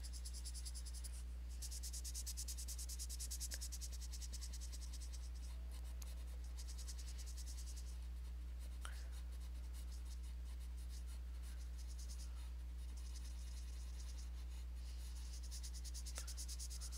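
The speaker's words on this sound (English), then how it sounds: "I'm just burnishing the page, getting rid of that white spot" Colored pencil burnishing a paper page, a steady soft scratchy rubbing that runs continuously and faintly over a low constant hum, with no talking.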